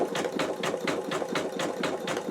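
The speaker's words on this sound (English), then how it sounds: "You can see that it is doing that zigzag stitch." An embroidery machine sews a zigzag stitch in a fast, even, repeating mechanical chatter, each needle stroke a sharp regular pulse, close and alone.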